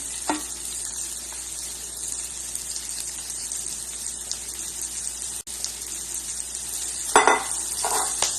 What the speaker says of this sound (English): I'm gonna saute this onion for a couple minutes.